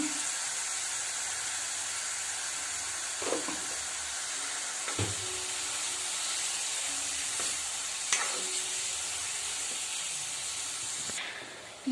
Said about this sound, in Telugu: ఆనియన్స్ వేసేస్తున్నాను. అక్కడ ఆనియన్స్ బాగా మగ్గిపోవాలంటే సాల్ట్ వేయాలి కదండి.